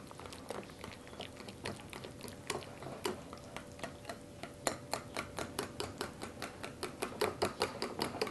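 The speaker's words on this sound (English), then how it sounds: "apple cider vinegar, and a bit of salt. I'm going to whisk that together." Fry sauce with apple cider vinegar and salt is whisked in a bowl, a rapid run of clicking strokes that grows faster and more regular toward the end, close and fairly quiet.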